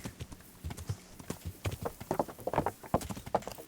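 Horse hooves clip-clop at a steady walking pace in the Kingdom Come: Deliverance video game, close and fairly loud, with brief rustling and no talking.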